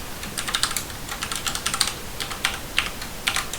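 Password being typed on a computer keyboard during a Solus 1.1 Linux install, a quick run of close, light key clicks in an uneven rhythm with no talking.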